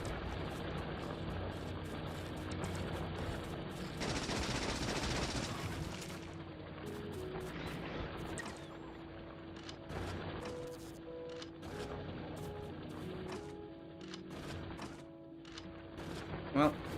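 Gun turrets in Factorio fire in rapid bursts of crackling automatic shots over a busy background hum, with one heavier, louder stretch early on and scattered shots afterward.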